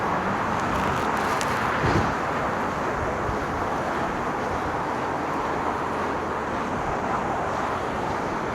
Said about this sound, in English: So here comes that wind.